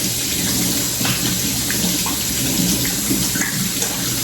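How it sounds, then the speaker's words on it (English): Running tap water splashing steadily as hands are washed in a kitchen sink, a close, continuous broadband rush with small splashy variations and no talk. "Let me wash my hands."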